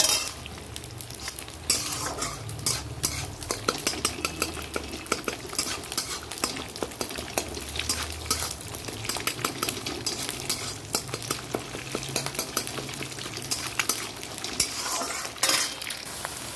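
Food fries in a pan while being stirred, a continuous sizzle broken by repeated scraping and clinking of a utensil against the pan, fairly close and steady.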